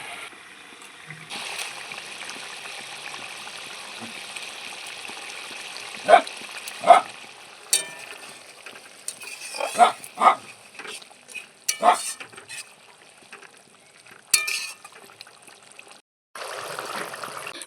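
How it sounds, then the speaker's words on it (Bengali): Fried paneer goes into a boiling masala gravy, which bubbles softly under a series of sharp clinks and stirring scrapes that come in uneven bursts. "ঝোল ভালো করে ফুটে গিয়েছে, এবারে আমি ভেজে রাখা পনিরগুলো ওর মধ্যে দিয়ে দেব"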